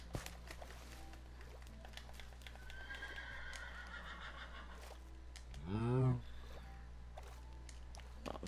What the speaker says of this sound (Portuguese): Olha, um cavalo.